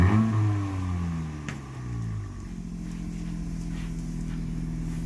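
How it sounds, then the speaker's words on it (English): A 2020 Honda Civic Si on its stock factory exhaust starts with a brief rev that settles into a steady low idle drone, close and alone. "here's the factory exhaust"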